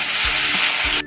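Curry leaves hit hot tempering oil with mustard seeds, dal and garlic cloves for a pomelo pickle, bursting into a close, bright, hissing sizzle with faint low stirring thumps, cut off abruptly.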